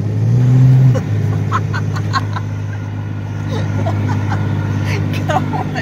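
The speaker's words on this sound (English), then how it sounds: "we're going up a hill. Truck's running fine." A truck engine drones steadily as the vehicle climbs a hill, holding a constant low rumble from inside the cab. People talk over the engine noise throughout.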